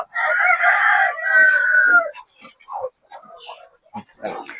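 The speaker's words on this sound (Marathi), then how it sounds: "हे अशा पद्धतीने हे कुडूक कोंबड्या आहेत" Free-range village hens and a rooster in a poultry shed: a loud, drawn-out crowing squawk up close, followed by scattered short clucks and murmurs.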